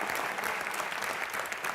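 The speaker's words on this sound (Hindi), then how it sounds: "जोरदार तालियां मिस्टर सुनील" Studio audience applause on the Hindi comedy show Comedy Nights With Kapil, a dense, steady wash of many hands clapping at moderate level throughout, with no talk over it.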